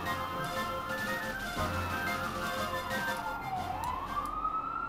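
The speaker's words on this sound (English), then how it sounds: "the sirens are getting closer." Emergency vehicle sirens outside at night: a wailing siren sweeping up and down, heard through walls at moderate level over a steady background hum, with no talking.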